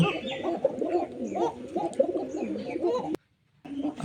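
A male pigeon, a Homer and Racing Homer cross, coos in deep repeated rolling phrases close by, with a brief pause of silence near the end before the cooing resumes.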